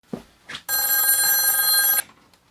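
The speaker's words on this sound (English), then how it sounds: "Game room phone is ringing." A telephone in a game room rings with a loud, bright electronic bell lasting over a second, preceded by two short soft knocks, close and alone without speech.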